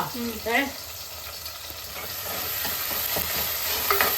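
Curry leaves crackle and sizzle in hot oil in a pan while cooking a parai fish curry, a steady close frying hiss with stirring, and a brief voice at the start.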